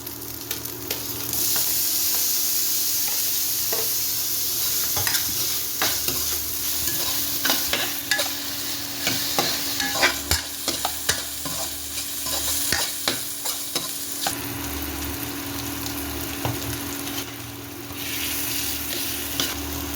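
Masala with ginger-garlic paste and tomato being sautéed and stirred in a pan for mutton curry, a steady close sizzle with frequent scraping stir strokes throughout, no talking.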